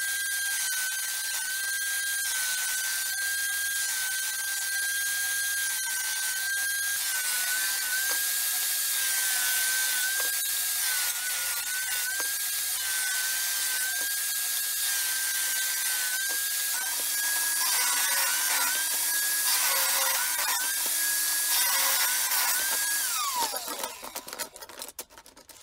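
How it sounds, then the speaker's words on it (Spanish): Table saw ripping planed wood strips to their final width, a steady close high whine that holds for over twenty seconds, then winds down abruptly near the end, with no speech. "Vamos a darle el ancho final en la sierra de mesa para que queden todas iguales."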